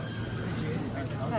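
A horse walks along the judging track at a 2021 horse show in Podgradci, its soft hoof falls barely standing out beneath a continuous loudspeaker voice.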